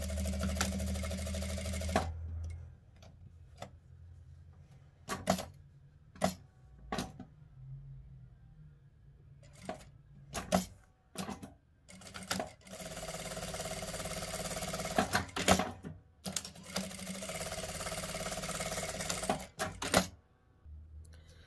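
A home sewing machine stitches a label onto the edge of a small, simple fabric bag, running in loud sustained bursts at the start and end, separated by quiet gaps broken by sharp clicks and handling knocks.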